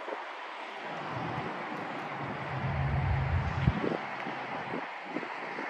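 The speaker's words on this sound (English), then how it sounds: "There's a highway behind me, and it's very windy today also." Steady wind buffets the microphone over a continuous low rumble of highway traffic, with a brief heavier surge in the middle, beside a 2022 Chevrolet Silverado 2500 HD Crew Cab LT.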